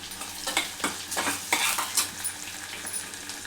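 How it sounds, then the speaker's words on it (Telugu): Green chillies and curry leaves fry in a pan for a red lentil dal, a soft sizzle broken by several sharp bursts of spattering and spoon-scraping stirs, close and fairly quiet with no talk. "ఈ రెండు వేసుకొని మంచిగా దూరగా వేగాలి ఇది మంచిగా ఫ్రై కావాలి"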